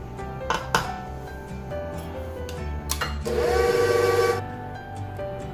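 Electric hand mixer beating fruitcake batter on its lowest setting, with a steady whirring run for about a second in the middle, set among scattered clatters and bowl knocks close by.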